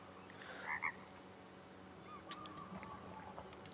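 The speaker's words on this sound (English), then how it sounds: "like the frog croaking. That's clearly ambient." Frogs croak as ambient wildlife in the hunting video game Way of the Hunter. A couple of faint, brief croaks stand over a soft, steady outdoor background.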